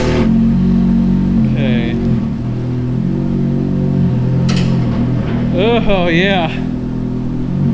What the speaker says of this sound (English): we're gonna take this thing out for a drive, see if it needs anything or if it's running good